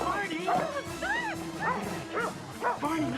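Dog yips and whimpering barks come in quick bursts over a steady hum, with voices and background talk mixed in throughout.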